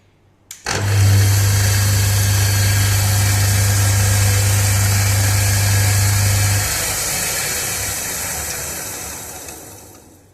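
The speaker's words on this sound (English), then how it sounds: "Let us switch on the machine." Electric single-phase rice polishing machine switched on, a loud motor hum starting abruptly and running steadily with a strong low drone and broadband whir, then easing slightly toward the end.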